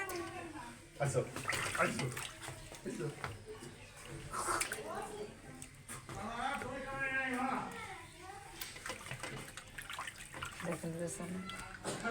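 A cleaned duck is being washed under running water, with splashing and a faucet-like pour beneath fairly constant talk, including a voice, all at modest level.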